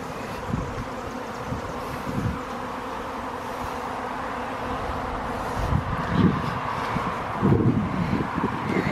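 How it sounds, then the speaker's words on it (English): A swarm of honeybees flies around a swarm trap outdoors, giving a steady, continuous buzzing drone with louder close passes near the end and some wind noise. "There is a lot of them flying around"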